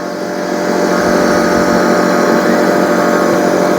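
A laser cutting machine cuts a mobile phone back sticker, giving a loud, steady whirring drone of fan and motor that swells at the start and then holds constant, no talk.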